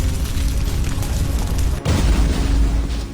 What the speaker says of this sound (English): you could hear big booms from a long distance for one of the abilities